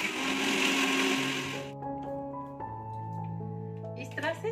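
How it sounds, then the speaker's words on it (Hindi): A kitchen mixie blender crushes biscuits into crumbs with a loud, high whirring grind for over a second before stopping, followed by a low hum and tones while someone speaks. "इसे हमें मिक्सी ब्लेंडर में एक बार इसको क्रश कर लेना है अच्छे से"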